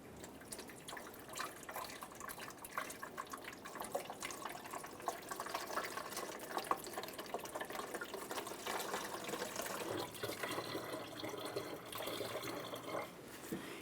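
Coolant pours steadily from a funnel into the coolant reservoir of a 1994-2002 Dodge Ram 2500, a continuous close trickle and gurgle with small drips, lasting throughout without speech.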